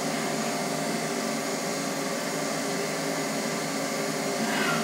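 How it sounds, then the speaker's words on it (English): A milling machine's end mill cuts a pen bolt to length, a steady loud whirring machining drone that holds even for the whole stretch, with no talking. "Switches to an end mill to actually cut it to length."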